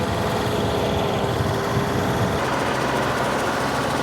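A backhoe engine idles steadily at around 1,500 rpm, a continuous low, rumbling drone close by with no talking.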